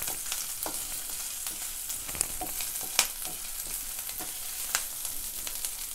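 Crushed ginger and green chillies frying in a pan for restaurant-style chana chilli, a steady close sizzle with a few sharp crackles and pops throughout, no voices.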